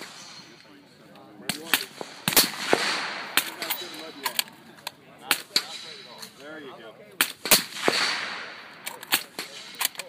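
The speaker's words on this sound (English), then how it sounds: "Thompson Machine 30 with two supersonic rounds, two subsonic rounds." Suppressed .308 Win rifle shots through a Thompson Machine Thirty suppressor, supersonic and subsonic rounds, with several sharp cracks and quieter pops outdoors, mixed with voices and many other distant shots from a busy range.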